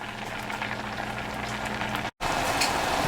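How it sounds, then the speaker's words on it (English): Canned green beans boil steadily in a pot, a continuous close bubbling and light sizzling hiss that runs alone without voices, broken by one very brief dropout near the end. "It's boiling away really well."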